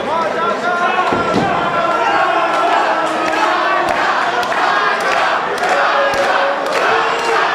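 A loud, packed wrestling crowd at a live indie show roars and cheers continuously, with chants and sharp slams echoing through the noise and an announcer talking over it.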